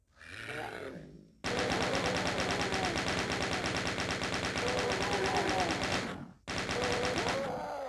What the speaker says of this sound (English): Nothing like a 9mm minigun.